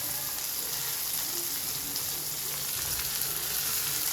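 Tomatoes sizzle steadily in a hot pan as a chicken biryani base is cooked, a continuous close frying crackle with faint stirring and no voices.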